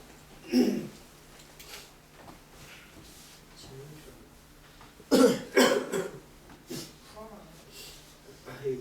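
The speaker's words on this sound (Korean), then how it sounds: "기침을 많이 해서 이거." A couple of short, rough coughs sound close by, one early and a louder cluster midway, with quiet room noise and faint talk between.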